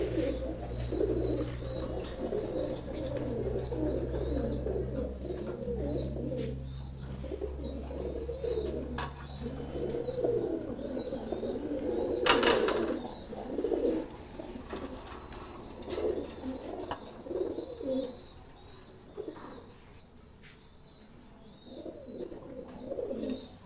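Teddy pigeons coo steadily in a loft, with soft repeated throaty calls, occasional chirps and a brief flutter of wings, fairly close and continuous with no talking.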